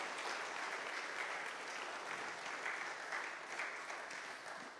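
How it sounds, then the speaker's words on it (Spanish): Congregation applauding in a church service, a steady, dense clapping that holds evenly throughout at moderate distance with no talk over it. "Un aplauso al Señor,"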